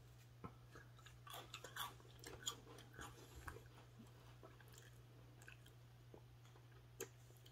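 Crunchy triangle-shaped veggie crackers from a Tokyo snack box being chewed: a faint run of small, irregular crisp crunches and bites close to the mic, with no talking.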